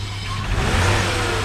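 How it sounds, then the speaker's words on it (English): A BMW M50 donor engine for an E30 revs up close and loud, a steady mid-pitched roar that climbs briefly as the throttle is blipped, with no talking over it. "So that's just me revving, like as if you were driving the car."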